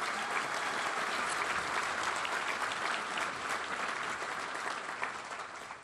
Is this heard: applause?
yes